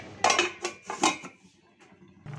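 A lid set down onto a pot of home-made fish curry, a brief cluster of metallic clanks and rattles close by, then fading to quiet.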